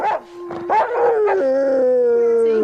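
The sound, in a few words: dog howling for Pedigree dog food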